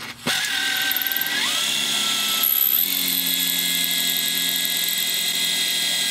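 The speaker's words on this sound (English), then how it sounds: "now I'm going to drill all the way through." A power drill bores through the metal and handle slab of a survival machete, a whining motor that starts, rises and then holds steady in a high, continuous drone.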